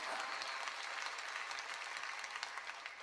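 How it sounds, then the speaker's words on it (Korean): Congregation clapping steadily at a church sermon, a dense continuous patter of many hands held at an even, moderate level throughout. "박수 치라니까"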